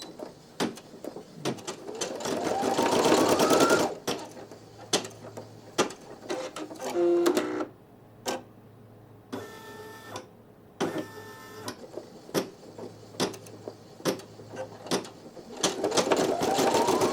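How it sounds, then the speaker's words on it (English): A Brother PE900 embroidery machine stitches a photo-stitch design with a steady, rapid mechanical whirring hum, punctuated by brief pauses and clicks, heard up close at moderate volume with a few faint background sounds. "bring the presser foot down, and you hit go"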